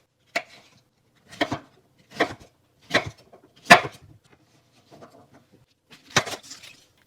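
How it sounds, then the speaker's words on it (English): A knife chops a large red pepper into pieces on a wooden cutting board, giving about seven distinct, well-spaced thuds in a slow, uneven rhythm, close and clear with quiet gaps between. "Core a large red pepper and cut it into pieces."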